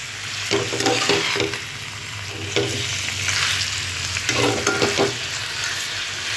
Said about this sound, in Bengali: এবার আমি ভালো করে মাংসটাকে ভালো করে মিক্সড করে নেব মশলার সাথে